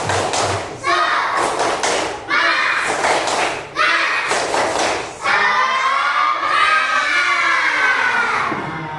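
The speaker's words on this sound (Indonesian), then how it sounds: "kita tepuk semangat dulu, ya. Tepuk semangat." A group, likely schoolchildren, performs the rhythmic 'tepuk semangat' spirit clap: loud, close bursts of patterned claps and thumps in quick sets, followed by shouting voices.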